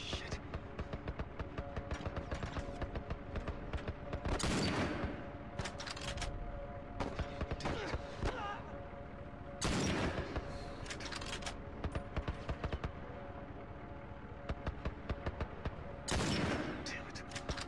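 Gunfire in The Last of Us, with repeated bursts of shots cracking through a continuous game soundscape, louder volleys recurring every several seconds over the whole stretch.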